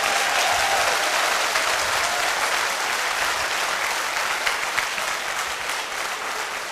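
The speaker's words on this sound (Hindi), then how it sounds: "तालियां बजानी है तो तसल्ली से बजा दो," Sustained applause from a seminar audience, a thick wash of clapping hands that holds steady for several seconds and eases slightly toward the end, with no voices over it.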